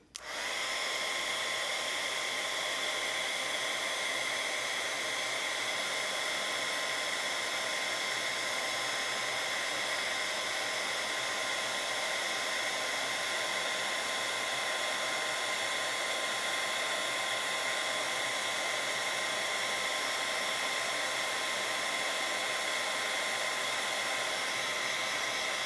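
A heat gun blows steadily and loudly at close range, heat-setting embossing powder in a continuous unbroken roar that starts abruptly and runs without pause or speech.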